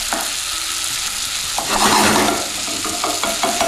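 A spoon stirs and presses food in a hot pan for a vegan recipe, with a loud close sizzle, scraping strokes and soft knocks against the pan.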